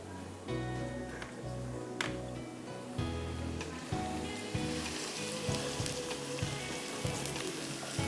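Finely chopped onions sizzle in hot Italia pomace olive oil, making a steady frying hiss with scattered pops and clatter from the pan, up close and moderately quiet.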